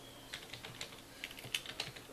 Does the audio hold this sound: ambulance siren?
no